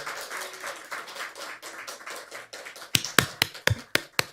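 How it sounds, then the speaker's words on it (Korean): A church congregation claps at an all-generations worship service, starting as soft, steady rhythmic claps that give way to sharper, louder, more separated claps near the end. "박수 크게 해주시면 힘이 될 줄 믿습니다"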